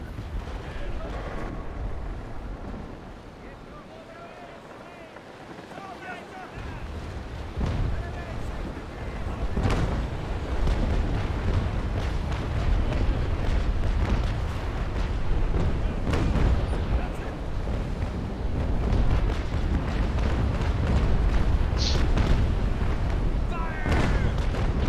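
Broadside cannon fire from a first-rate ship of the line in the Naval Action game, deep rolling booms repeating over a constant rumble of battle, with someone talking over it.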